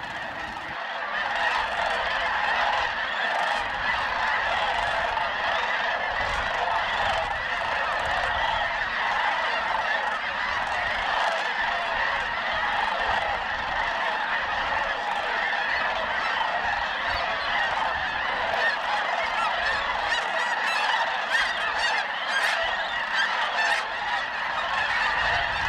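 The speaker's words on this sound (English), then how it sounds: "The geese did a couple laps around the pond" A flock of geese circling a pond honks continuously and loudly, many overlapping calls forming a dense, steady clamor.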